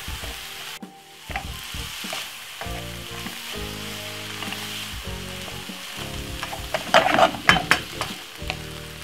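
King prawns with mixed herbs and a pinch of salt frying in a pan, a steady close sizzle with stirring scrapes and a few louder spatters near the end, no talking.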